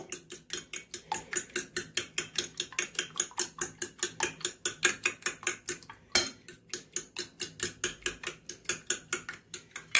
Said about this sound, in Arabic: حطيت ثلاث بيضات وعليهم آه، رشه فانيليا واضربهم كده